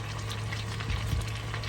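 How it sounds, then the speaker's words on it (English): Chicken breast cooking in a pan inside a camper van, giving a steady, soft sizzle and bubbling hiss that holds at an even level throughout, close by with no talking. "So I am now cooking one of the chicken breasts."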